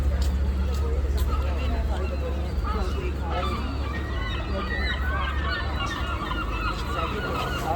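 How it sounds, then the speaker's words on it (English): Seagulls call over a busy Scarborough seafront on England's North East coast, their cries layered over constant traffic rumble, crowd chatter and nearby voices. "You can hear the seagulls really making a lot of noise."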